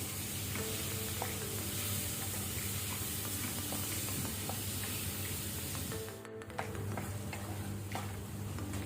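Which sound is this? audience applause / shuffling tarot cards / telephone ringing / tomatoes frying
tomatoes frying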